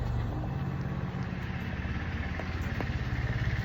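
A motorbike travels across the Payra bridge on a ride toward Kuakata, its engine a steady mid-range drone with wind rush, fairly quiet and continuous throughout.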